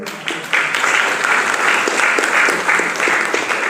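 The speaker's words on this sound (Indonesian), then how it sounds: "Saya minta tepuk tangan untuk panitiaan." An audience claps steadily for the organising committee at a KNPI Belitung youth legislation school event, a dense, loud round of applause lasting throughout.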